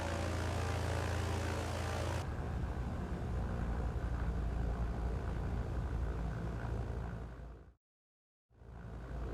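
Three-engined Trislander propeller aircraft taxiing at the small Saba island airfield in Microsoft Flight Simulator, a steady loud engine drone that shifts tone partway through, then cuts to silence briefly before returning.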